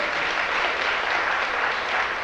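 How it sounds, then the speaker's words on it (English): An audience at a lecture applauds, a dense wash of clapping that holds steady throughout at a moderate distance, with no speech over it. "clap your hands if you believe that"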